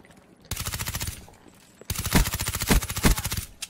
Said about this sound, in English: Got some gunfire going on.